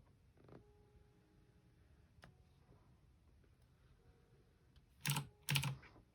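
Two short bursts of computer keyboard keys pressed for an undo shortcut during digital drawing on a Gaomon PD1161 drawing monitor, sharp clicks near the end after a quiet stretch with a faint creak.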